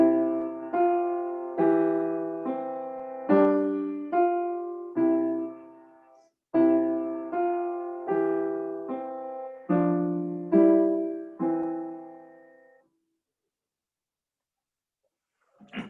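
A simple beginner tune on piano, clear single notes and small chords struck in an even, steady rhythm with each one decaying, followed by a few seconds of silence at the end.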